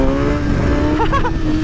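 A Kawasaki ZX10R motorcycle engine runs on a dyno, holding a steady loud drone with a brief warbling rise in pitch near the end, close and continuous, with no talking.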